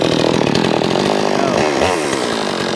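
A two-stroke chainsaw roars loudly at close range, engine running steadily with a brief dip in pitch near the end.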